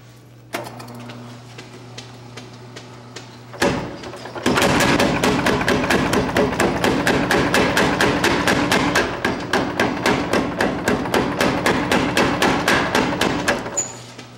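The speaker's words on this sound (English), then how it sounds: "let's go to the power hammer." A blacksmith's power hammer forges hot metal at a smiths' conference, starting after a few isolated knocks into a rapid, loud, steady train of heavy metallic blows that continues to the end.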